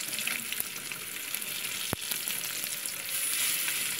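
Pointed gourd (potol) frying in oil in a pan, giving a steady, dense sizzle that stays close and even throughout, with one brief sharp knock partway through.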